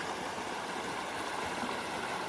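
The Middle Fork Snoqualmie River flows nearby with a steady broadband rushing roar, constant and unvarying, with no voices over it.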